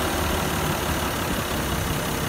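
A 1941 Chris Craft Sportsman boat with a W engine idles steadily, a dense, constant low rumble holding an even level throughout with no talk.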